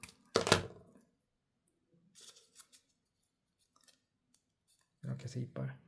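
Scissors snip through a sheet of paper to halve it for an origami robot build: a short, sharp cutting burst at the start and a few faint clicks after. A voice speaks briefly near the end.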